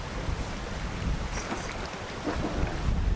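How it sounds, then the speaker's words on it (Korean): Strong wind blows across a sea shore with rough waves, buffeting the microphone in loud gusts over a constant roar of surf. "바람이 불어서"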